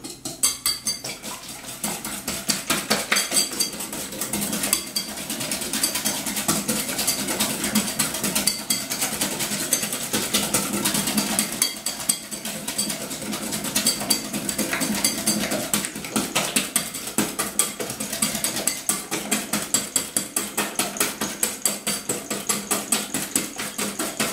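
Eggs and sugar whisked together for a fruit clafoutis, a steady fast rhythmic clatter of a whisk or beater against a bowl running continuously and fairly loud, with no talk over it.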